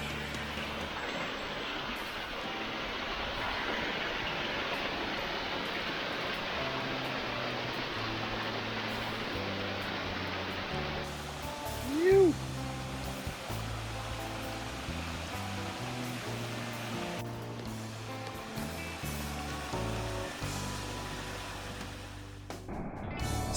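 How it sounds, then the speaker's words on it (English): A powerful waterfall on a small stream in Loyalsock State Forest roars as a steady, dense wash of rushing water, loud and continuous throughout with no talk. "the size of the stream that produces such a powerful waterfall is often"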